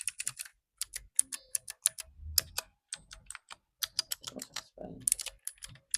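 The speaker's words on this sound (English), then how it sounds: "I noticed that the typing sound. The keyboard sounds clean and comfortable right out the box." Typing on a Keychron Q7 wired custom mechanical keyboard with PBT keycaps: close, crisp keystroke clicks in quick irregular bursts, with a few deeper thocks and short pauses between runs.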